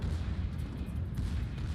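Naval guns fire in the World of Warships video game, a dense, continuous low rumble of distant gunfire and booms without distinct separate shots.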